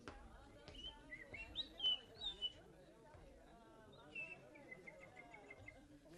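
Faint, high bird chirps and tweets come in short scattered bursts over a low, busy background murmur inside a courthouse.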